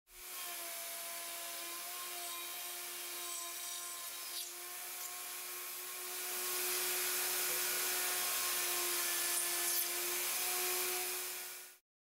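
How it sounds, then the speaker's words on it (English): A router guided by a Leigh M2 mortise and tenon jig cuts tenons in wood, a steady high whine with a grinding rasp that grows louder midway before stopping abruptly. "the router follows the guide fingers to form the tenons."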